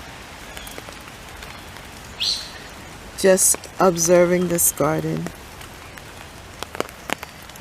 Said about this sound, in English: here I am outside in the rain